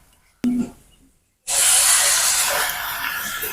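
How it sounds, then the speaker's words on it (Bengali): Grated coconut is dry-roasted in a wok for patishapta pitha filling. A brief clink comes first, then a short silence, then a loud steady hiss that fades slightly. "নারকেল কুড়াটা একটু ভাজা ভাজা করে নেব।"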